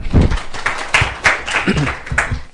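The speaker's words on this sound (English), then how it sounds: "Let's give a round of applause to welcome Ms. Lily Pai." Audience applause at a university internationalization meeting, welcoming a speaker; a short, loud burst of mixed clapping with scattered individual claps standing out.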